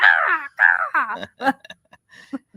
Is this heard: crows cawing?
yes